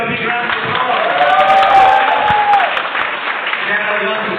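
An audience at a leaders training event in Dubai applauds, a dense wash of clapping and crowd noise with a voice speaking over it.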